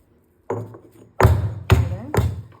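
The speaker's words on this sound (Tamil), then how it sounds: "இனி ஒரு பத்து பல் பூண்டு போட்டு இதையும் தட்டிக்கலாம்" Four heavy thuds of a pestle pounding garlic cloves with black pepper and cumin in a mortar, close and dull, spaced roughly half a second apart after a quiet start.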